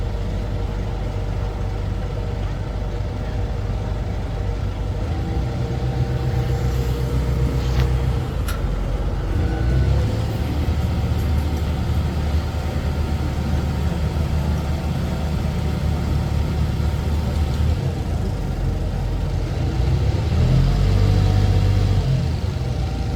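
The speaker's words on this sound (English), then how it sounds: "The sound of the engine is quite loud when passing through this part of the river" Boat engines on a busy stretch of river in Can Tho, Vietnam, a steady, loud low rumble of motors that swells as craft pass by, continuous throughout and without talk.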